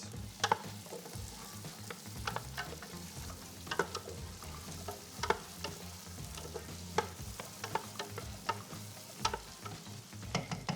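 Vegetables stew and sizzle in oil in a pan, a steady soft frying hiss close by, broken by frequent sharp clicks and scrapes of stirring at an irregular rhythm, with no voices.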